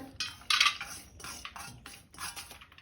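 Soaked mung dal being added to a cooking pan, a few brief clinks and scrapes of spoon against metal, close and moderately loud with no speech.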